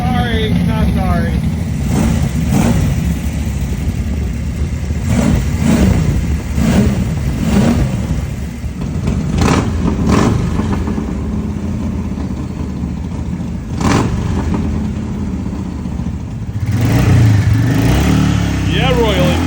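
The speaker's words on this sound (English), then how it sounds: "Yeah, Royal Enfield. Get some. This is my practical motorcycle." A Royal Enfield motorcycle engine revving up and down in repeated bursts at close range, loud and throaty, with people talking over it.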